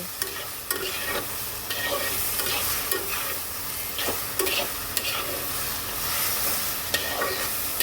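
A coriander and cumin mixture is stirred in a cooking pan, with steady sizzling and repeated scraping, clacking strokes of a utensil against the pan, close and even, no voices.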